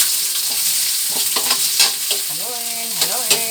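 Onions sizzle steadily in a hot pan, with repeated scraping stirs breaking through the constant frying hiss up close.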